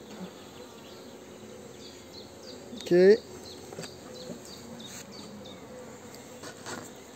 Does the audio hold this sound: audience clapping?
no